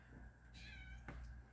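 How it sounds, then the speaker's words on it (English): A pet cat gives a single short, fairly faint meow indoors against a quiet background. "So y'all hear my cat Popcorn, who needs to calm down a little bit"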